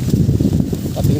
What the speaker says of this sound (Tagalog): Oh, lakas ng hangin guys.